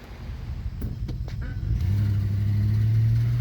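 A car engine starts off and pulls away on a test drive after wheel work for a wandering problem, early scraping and thumps giving way to a steady, loud low hum of the motor in motion.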